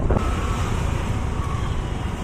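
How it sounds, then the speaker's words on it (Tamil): Steady road traffic noise hums beneath gusty wind buffeting the microphone on a breezy day before rain, continuous with no speech. "நல்லா டிராஃபிக்காக இருக்குது."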